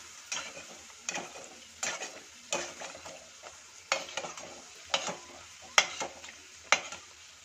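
Kachori frying in hot oil in a pan, pressed down gently with a ladle: steady sizzle broken by repeated scraping, clinking ladle strokes about once a second, close and clear with no talking.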